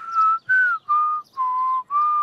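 A cartoon character whistles five steady, sustained notes in a row, each pitched slightly differently, with brief breaths between them, loud, close and alone.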